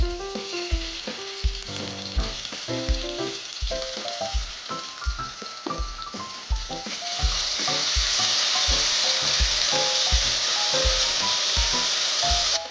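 Trader Joe's crushed garlic cubes hit a hot pan and sizzle, a dense close frying hiss that grows louder and steadier partway through, with rhythmic stirring knocks underneath and no talking.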